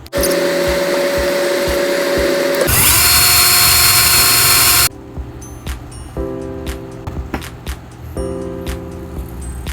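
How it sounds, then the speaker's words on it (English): Cordless power drill driving screws into the frame of a foldable wheeled table, with several loud sustained whirring bursts, one long high-pitched run and shorter stop-start pulses as each screw seats. "Once I get the first couple of set, then I can use the power drill."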